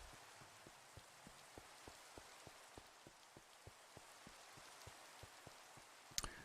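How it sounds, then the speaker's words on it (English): Rain falling in a video game, a soft steady hiss of drizzle with regular faint drips tapping at an even rhythm, ending in a brief sharper clatter at the very end. "Rain. Surprise."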